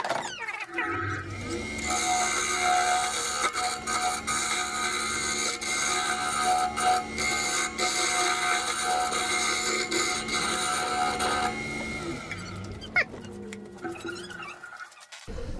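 A carbide-tipped Easy Wood Tools turning tool cuts into a spinning cherry burl blank with epoxy on a lathe, shaping a shift knob for a 1974 MGB, a steady rough scraping and whirring with the motor winding down at the end.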